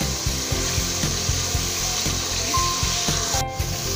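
A spoon scrapes rhythmically through masala frying in hot ghee for fish salan, about two strokes per second over a steady close sizzle, with no talking.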